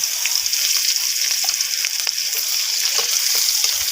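Onions fry in hot oil left in the pan after frying tilapia for a tomato chorchori, giving a steady, close, bright sizzle with small pops and crackles and no talking.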